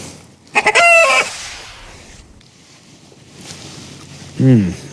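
People mimic chicken calls in a TV commercial for Zaxby's Kickin' Chicken Sandwich meal: a loud burst of clucking squawks near the start, then a short crowing-style call at the end, separated by quiet gaps.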